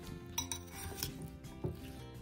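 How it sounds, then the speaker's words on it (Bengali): Grated ginger is mixed into potatoes in a bowl, and a utensil clinks and scrapes against the dish in a few quiet, scattered knocks amid soft stirring, with no voice present. "এবার এই গ্রেট করে রাখা আদাটা খুব ভালো করে আলুর মধ্যে মিশিয়ে নেব।"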